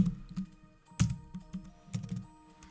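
Quick, irregular clicking of keys on a computer keyboard, close by, with short bursts of typing and brief pauses between them.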